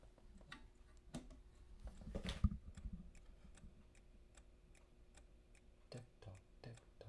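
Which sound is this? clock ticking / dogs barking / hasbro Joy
clock ticking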